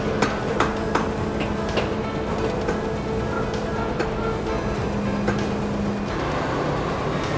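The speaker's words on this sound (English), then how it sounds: "the heel is attached by inserting a series of nails, threaded nails, from the inside of the boot" Threaded nails are driven to attach a heel to a cowboy boot on a boot factory floor, sharp repeated impacts at an irregular pace over a constant mechanical hum and a higher steady tone.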